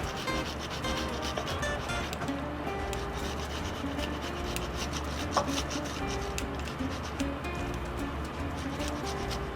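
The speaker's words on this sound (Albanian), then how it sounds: "Po i grim pak djath kaçkavall." Kashkaval cheese rubbed quickly over a grater, a steady, dense rasping that runs close and continuous through the whole stretch, with faint kitchen clatter beneath.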